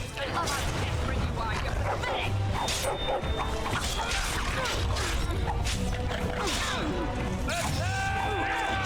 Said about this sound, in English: Deal with the dogs. The dogs are dangerous.